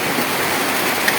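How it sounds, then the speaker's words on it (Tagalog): Heavy rain pours in a steady dense hiss with no break, loud and close, like a downpour beating on surfaces during the rainy season. "malakas ang ulan dito ngayon"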